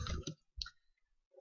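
A few keyboard keystrokes typing a search into a web browser, sparse clicks with gaps, close and alone.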